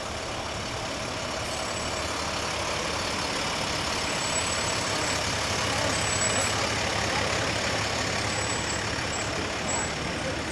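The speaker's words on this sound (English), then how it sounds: "we have Brush 583, which is a 2010 International Pierce Urban Interface Pumper." A 2010 International Pierce Urban Interface brush pumper fire truck rolls by in a county firemen's convention parade, its engine a steady low rumble over constant crowd and street noise, with faint high whistle-like tones now and then.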